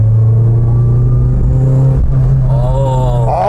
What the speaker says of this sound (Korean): 4000rpm을 넘어서는 그 엔진이 시원하게 뻗는 느낌이 있어요.